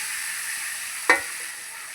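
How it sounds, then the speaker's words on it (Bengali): Potatoes frying in a pan make a steady, faint sizzling hiss, with one brief sharp crackle partway through. "দিয়ে আলুটা একটু ভাজা ভাজা করবো"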